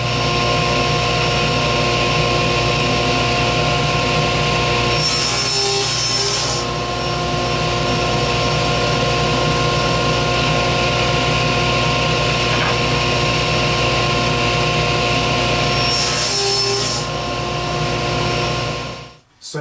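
A power saw cuts a wooden board, 4 3/4 inches wide and 3/4 inch thick, down to a 20-inch length for a BBQ grill scraper, a loud steady whine running for nearly twenty seconds and cutting off sharply at the end.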